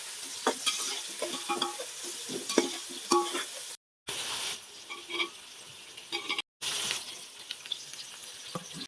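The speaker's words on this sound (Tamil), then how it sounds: "இப்போ நம்ம எல்லாம் நல்லா கொஞ்சம் வதக்கிக்கலாம்." Whole spices frying in hot oil in a pan for Hyderabadi mutton biryani: close, steady sizzling with stirring scrapes, broken by two brief silent cuts.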